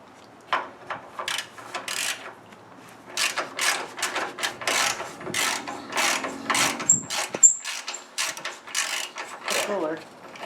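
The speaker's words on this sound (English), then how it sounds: "right in here there's two bolts. I'm going to take those two off. And those are 1/2 inch." A ratchet wrench clicks in quick bursts while loosening 1/2 inch bolts on the front suspension of a classic Pontiac Firebird muscle car. The ratcheting is close and repeated, with short pauses between runs.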